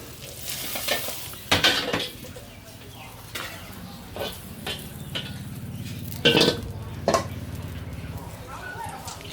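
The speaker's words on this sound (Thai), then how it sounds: "เตาจีนที่มันดังฟู่ฟู่เขาทำยังไง" Stir-frying in a wok over a roaring Chinese-style stove at a Thai eatery, with sizzling and scraping strokes of metal on metal in irregular bursts over a steady burner hiss, and a voice speaking now and then.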